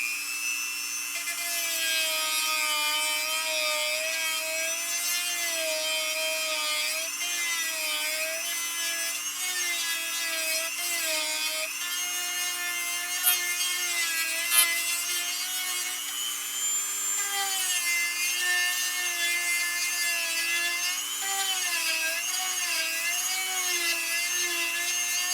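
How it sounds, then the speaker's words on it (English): A small high-pitched sander whines steadily at close range, its pitch wavering as it opens up the eye holes carved in a wooden ventriloquist dummy, continuous for the whole stretch with no talking. "We use this little sander to open it up some."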